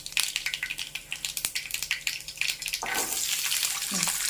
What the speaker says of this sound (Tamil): இப்போ கடுகு பொடியுது